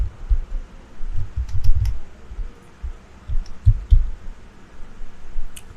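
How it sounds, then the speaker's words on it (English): Typing on a computer keyboard, soft muffled key taps arriving in a few short irregular clusters over low background hiss, close by and without speech. "Let's go to this site and type in Twitter."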